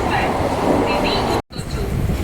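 A train running past Coimbatore railway station in Tamil Nadu, with a continuous close rumble and rattle of carriages broken by one brief drop-out midway.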